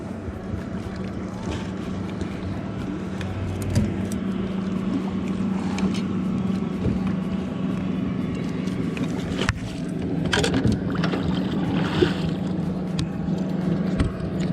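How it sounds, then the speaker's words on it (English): A motorboat engine drones steadily nearby as it passes, with wind and water noise around it and a few small knocks. "Let this boat get by"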